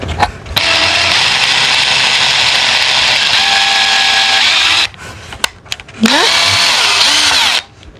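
A power drill boring a hole in a 20-year-old camper, two loud sustained whining bursts close by, the first about four seconds long, the second shorter after a brief pause.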